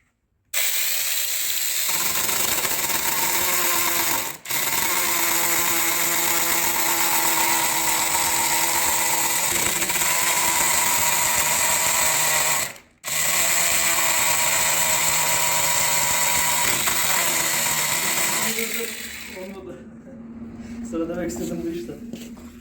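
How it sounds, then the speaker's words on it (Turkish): Cordless battery hand chainsaw with a 15 cm bar cutting green tree wood, a loud continuous high motor whine held for long stretches with two brief cutoffs before winding down. "yaş ağaçları kesmeye çalışalım."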